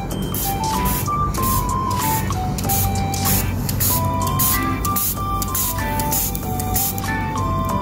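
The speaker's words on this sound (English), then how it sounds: "I'm going to spray more vinegar so that my dinosaur egg can touch faster." Bursts of vinegar sprayed from a spray bottle hiss repeatedly over a steady, busy background hum, with faint tonal beeps drifting in and out.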